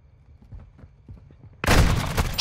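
A loud gunshot from a Tempus Razorback in Modern Warfare 2 Search and Destroy bursts in abruptly after quiet game ambience with faint footsteps, then a sustained noisy tail.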